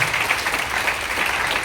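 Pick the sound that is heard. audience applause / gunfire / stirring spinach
audience applause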